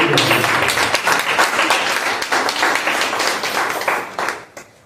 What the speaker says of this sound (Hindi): एक तालियां बच्चों के लिए होना चाहिए, एक तालियां मणिकांत जी के लिए होना चाहिए